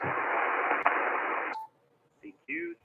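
Loud hissing amateur radio static on a North Carolina to St. Vincent contact fills the first second and a half, then cuts out, followed by short bursts of garbled, distorted signal.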